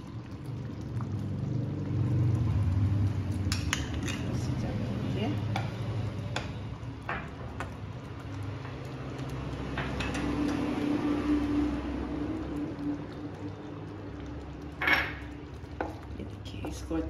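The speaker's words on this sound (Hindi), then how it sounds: "इसको अच्छे से हम हिला लेंगे।" Paneer butter masala with a spoonful of fresh cream stirred in a pan, giving a steady low bubbling rumble with scattered clinks of a metal spoon against the pan throughout, close and continuous.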